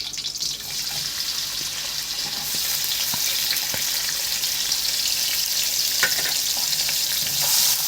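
Onions frying in a pan for aloo mutton gosht, a steady close sizzle with occasional stirring scrapes and small pops throughout, no talking.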